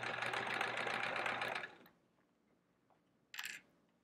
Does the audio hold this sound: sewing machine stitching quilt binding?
yes